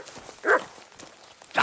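A dog in Kingdom Come Deliverance 2 gives a single sharp bark, then a second bark starts right at the end, with faint shuffling footsteps between them.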